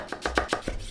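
A knife cuts through a tomato in a kitchen with five quick, evenly spaced chops on a board, soft and close with no talking.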